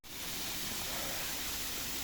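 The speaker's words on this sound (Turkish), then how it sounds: "Yol üstünde böyle bir şelale var." Waterfall beside the hiking trail up to Christ the Redeemer in Rio de Janeiro: a steady, broad rush of falling water fills the whole stretch, close and constant with no voices.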